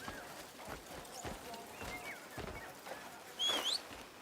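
Soft rhythmic horse hoofbeats in the action adventure game Crimson Desert, a faint steady clip-clop with a brief bird-like chirp near the end.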